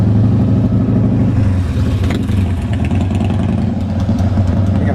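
A motorcycle engine rumbles loudly and steadily close by on a street in the Los Rios District, a continuous throaty drone with no voices.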